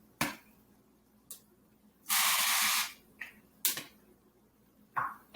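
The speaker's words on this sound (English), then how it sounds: "then we're going to spray the pan" Cooking spray is sprayed into a pan on a stove for browning ground meat, a single steady hiss lasting under a second, with light clicks and handling sounds around it and no talking.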